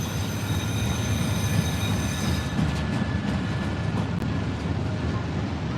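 A freight train with manned helper locomotives grinds around Horseshoe Curve in Pennsylvania, its wheels squealing in a steady high whine over a dense, continuous rumble of railcars rolling past close by. The squeal fades midway.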